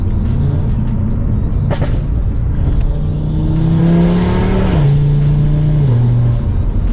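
A 2019 Audi RS3 with a full Milltek exhaust revving loudly while driving, its engine note rising and falling steadily from inside the car with a low throaty drone.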